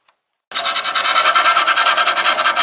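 Sandpaper wrapped around a wooden stir stick scrubs body filler on an 87 Chevy Monte Carlo SS opening, starting abruptly after a brief silence and continuing as loud, steady back-and-forth rasping strokes.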